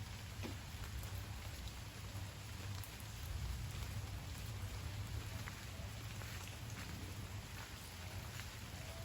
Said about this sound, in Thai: ยิ่งฝนตก พระอาทิตย์เนี่ยก็แทบจะไม่โผล่ออกมาเลยนะ